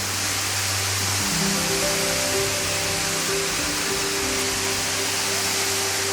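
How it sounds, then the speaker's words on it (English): A waterfall pours over wet, mossy rocks in the outdoors, giving a steady broadband rush that stays even and loud the whole time, with no voices over it. "There's the waterfall right there, or at least part of it."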